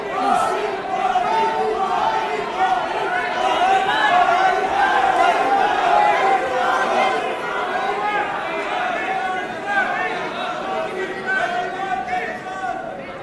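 A large crowd at a political speech chanting "Modi Modi", a dense, continuous roar of many voices that holds steady and loud throughout.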